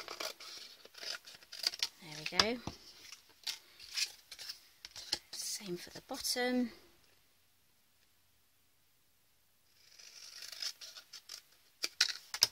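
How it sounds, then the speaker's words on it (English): Scissors snip through paper in quick repeated cuts for a crafting project, mixed with light rustling; a person speaks briefly between the snips, then a pause before more cutting. "I can grab my scissors."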